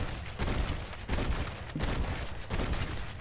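Gunfire from a Red Dead Redemption: Undead Nightmare gambling shootout, with three loud bursts of rapid shots roughly a second apart, each followed by a sustained ringing, rumbling tail.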